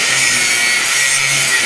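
Steering tubing on a Chevrolet Nova rack and pinion being cut with a tool: a loud, close, continuous harsh grinding hiss that holds steady, alone.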